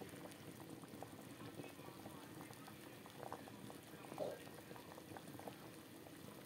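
Curry bubbles at a steady simmer in a cooking pot, a continuous soft bubbling and popping texture heard close, with faint talk in the background.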